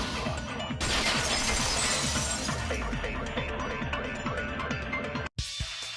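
A vase shatters in a PS4 video game, a loud crash of breaking glass and ceramic with a long scatter of tinkling fragments, broken by a brief silence near the end before more clatter.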